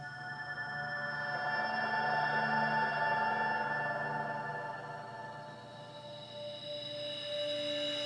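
Sustained synthesizer tones from a Kurzweil PC3 swell and fade slowly, bathed in a long, washy reverb tail, soft and alone without any voices.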